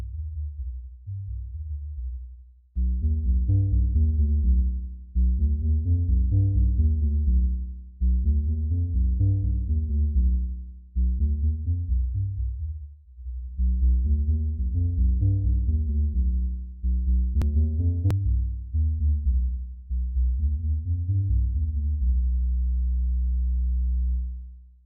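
Synthesizer driven by phase-difference FAZOR synthesis, playing low, buzzy repeated note patterns in looping phrases, its tone shifting as the phase changes, with a brief high click partway through and a sustained low drone at the end.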